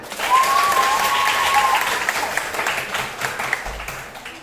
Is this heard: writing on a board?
no